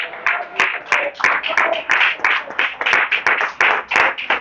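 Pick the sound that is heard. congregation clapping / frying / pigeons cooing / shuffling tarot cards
congregation clapping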